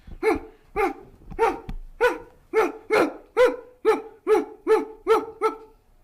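A child in a fourth-grade school play imitates a dog, giving about a dozen evenly spaced, loud, close barks in a steady rhythm with no other voices.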